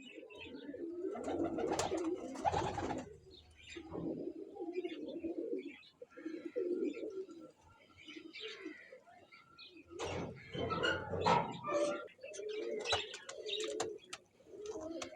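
Pigeons coo in soft repeated bursts close by, with intermittent rustling and shuffling between the calls.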